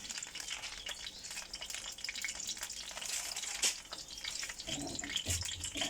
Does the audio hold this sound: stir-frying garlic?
yes